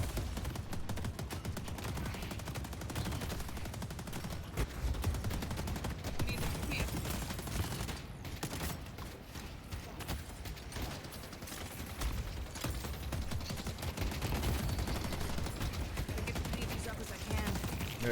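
Dense, nonstop automatic gunfire with rapid overlapping shots and mechanical clatter, loud and continuous throughout a Deadlock video game match.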